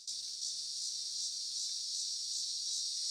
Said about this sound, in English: There's a cicada right outside my door now.